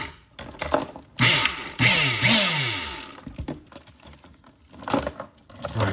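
An Anbull 900W electric hydraulic rebar cutter works through a metal chain, with loud metallic clanks and jangling chain links in separated bursts between quieter pauses.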